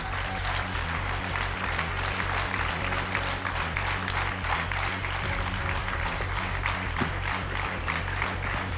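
Sustained audience applause on a televised X-Factor talent show fills the hall, dense and even clapping with crowd noise beneath it and no talk on top.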